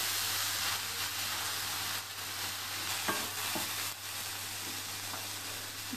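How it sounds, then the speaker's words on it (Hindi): Grated carrots frying for gajar halwa are stirred in the pan, a steady close sizzle with scraping strokes and occasional clicks over a constant low hum. "पाँच सात मिनट हो गया है भूनते हुए।"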